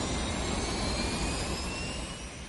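US Navy and Air Force jet planes on bombing raids over North Vietnam in 1965 roar loud and steady, a dense engine rush with a high whine that fades slightly toward the end.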